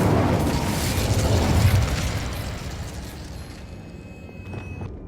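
An Incendio fire spell burst from Hogwarts Legacy on PS5: a loud, roaring whoosh that dies away gradually into a quieter tail with faint sparkling crackles near the end.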